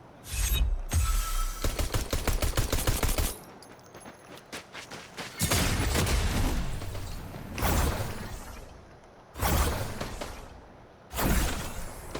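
Gunfire in the video game Fortnite: rapid bursts of loud shots in quick succession, then several separate blasts with noisy tails spread across the stretch, with no talk over it.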